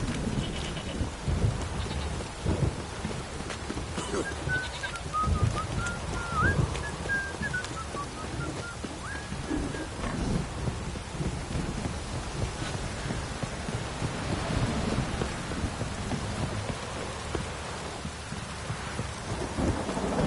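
Steady heavy rain with rolling thunder in a stormy outdoor scene from The Witcher video game, a dense continuous downpour with rumbles throughout and a faint bird-like call partway through.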